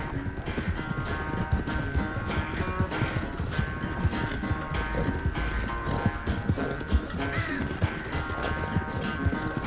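Rhythmic clip-clop of horse hooves trotting steadily in Red Dead Redemption 2, with the game soundtrack and ambient noise beneath, no speech.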